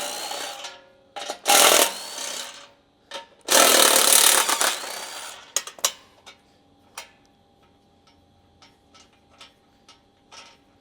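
Bolts come off a Toyota Tundra's aluminum front bumper under a 14mm socket, heard as two loud bursts of power-tool whirring followed by scattered sharp metallic clicks and taps, with no talk.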